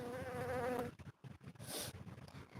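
A bee buzzes close to the microphone near an open beehive, a wavering whine that cuts off abruptly, followed by soft handling noises and a brief hiss.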